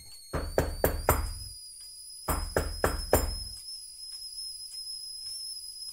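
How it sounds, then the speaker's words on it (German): Two sharp sets of four knocks strike a door, loud and close, separated by a pause, while a steady high whistling tone hangs over a quiet background. "wird die Ruhe durch ein unerwartetes Klopfen an der Tür unterbrochen"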